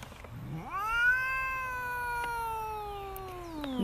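A cat meows once in a long, drawn-out call that rises quickly and then holds steady before trailing off, close and clear with no talking.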